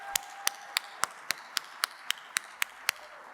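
At a chief planners panel event, a sparse, evenly paced series of about eleven single claps, crisp and fairly faint, with no crowd roar behind them.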